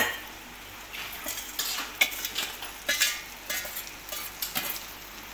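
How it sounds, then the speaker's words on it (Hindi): Okra tipped into a pan of fried chillies and onions for bhindi, then stirred: scraping utensil strokes and clinks come at an uneven rhythm over a soft sizzle, close and fairly quiet, with no talking. "गाइस, हमारे मिर्ची प्याज हो चुके हैं। अब हम इसमें भिंडी डालेंगे।"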